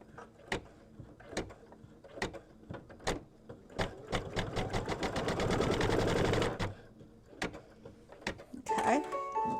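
Embroidery machine stitching a mug rug, tacking down the outside edge: rapid, even needle strokes in a steady mechanical run, broken by louder separate clunks and a brief whirring burst near the end, close and loud.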